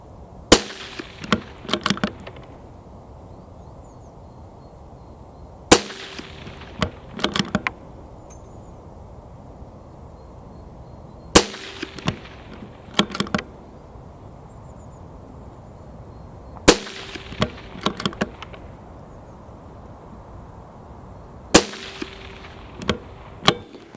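Shots from a CZ 457 Thumbhole Laminate rifle in 17 HMR, fired outdoors as four evenly spaced groups of sharp cracks, each a loud report followed by several quicker shots, with quiet background between groups.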